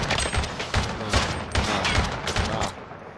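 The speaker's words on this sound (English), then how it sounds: "Not if I got an LMG in my hand." Light machine gun fire in Call of Duty: Modern Warfare (2019) Gunfight mode, several loud rapid bursts of automatic shots rattling close in quick succession.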